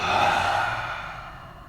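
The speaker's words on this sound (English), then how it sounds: "Inhale and exhale." A deep breath drawn slowly and released during meditation practice, a single soft airy rush that swells early then trails off gradually, close and steady with no talking.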